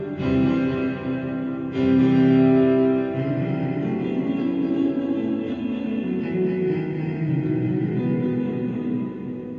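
An electric guitar runs through an MXR reverb set fully wet, giving a washed, distant swell of sustained chord tones that blooms after a fresh attack and slowly decays, steady and moderately loud with no talking.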